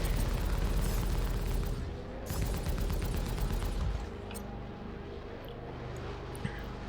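Ship guns firing in the space game Star Citizen, a dense, loud burst of rapid cannon fire for about four seconds, then dropping to a steadier engine-like hum with a few faint blips.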